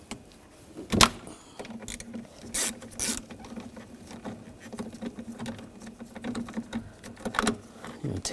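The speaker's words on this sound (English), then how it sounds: "Loosen up that nut." A 13mm socket loosening a nut on the battery bracket of a 2007-2013 BMW X5, giving a quiet patter of clicks and scrapes with a few sharper knocks, close and soft.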